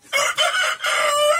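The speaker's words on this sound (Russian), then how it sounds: "Так, ну вот этот молодняк, они начинают уже тут кукарекать." Young roosters crowing on a small farm with quail and hens, loud, close and overlapping calls strung together with brief breaks and no talk.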